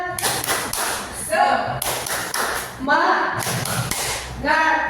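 A group of teachers claps a quick rhythmic Indonesian cheer pattern in bursts, mixed with voices chanting and talking throughout.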